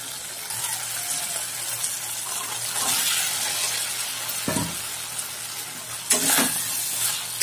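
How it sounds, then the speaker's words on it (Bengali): Peas and paneer sizzle and fry in a pan of spice masala, a continuous hissing crackle with a few louder bursts as the pieces are stirred in, close and loud with no talking. "এই পর্যায়ে আমি দিয়ে দেব মটর ও পনিরটি।"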